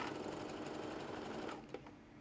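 A sewing machine running continuously while stitching a pocket into a lined bag, a close, steady whirring hum that winds down near the end, with a soft click as it stops.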